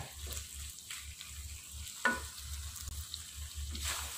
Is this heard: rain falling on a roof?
no